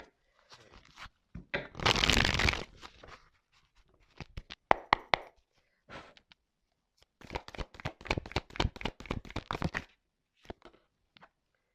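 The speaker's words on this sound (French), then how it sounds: "on va prendre encore quelques petites cartes là" Tarot cards being shuffled by hand close up, a dense riffling burst followed by irregular runs of crisp card flicks and taps, with no talking.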